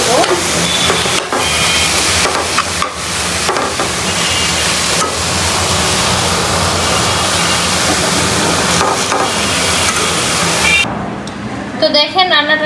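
Leafy greens (shak) frying in a pan, a loud, steady, dense sizzle that runs almost unbroken, with faint talking in the background and the hiss thinning out near the end.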